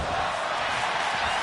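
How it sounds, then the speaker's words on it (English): A capacity crowd at a pro wrestling match roars and cheers in a dense, continuous wash of noise that stays loud throughout. "The capacity crowd making some noise here."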